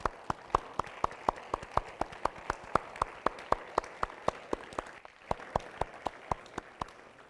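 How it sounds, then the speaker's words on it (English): An audience at the Conference of Youth opening in Madrid claps for young climate scholars: a slow, steady, regular clap of a few hands, fairly near, with no talk. "Give them a clap, guys."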